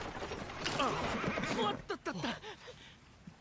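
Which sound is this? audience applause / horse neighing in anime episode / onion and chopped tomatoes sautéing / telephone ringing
horse neighing in anime episode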